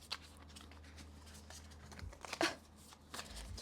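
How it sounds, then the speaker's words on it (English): A small deck of playing cards being shuffled by hand, producing soft riffling flutters and papery slaps in short irregular bursts with low background hum and no speech. "So this deck is small. It's hard to shuffle."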